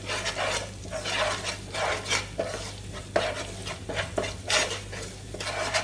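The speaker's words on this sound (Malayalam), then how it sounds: "ഇതിനകത്തോട്ട് 2 ടേബിൾ സ്പൂൺ മുളക് പൊടി ഇടുന്നുണ്ട്" Kashmiri chili powder stirred in a pan over a low flame for a green apple pickle, a spoon scraping in repeated strokes with soft sizzling close by, no talking.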